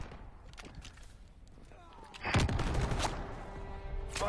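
Rapid bursts of video game gunfire, with sharp shots that grow louder and denser partway through over background battle noise, while a voice talks faintly.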